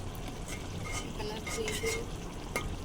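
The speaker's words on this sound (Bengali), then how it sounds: "একটু পরে পরে নাড়া দিতে হবে" A spoon stirs dried taki fish curry with bitter gourd in a sizzling pan, giving a continuous close scraping and frying crackle with no talk.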